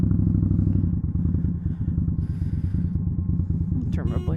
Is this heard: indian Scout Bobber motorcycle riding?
yes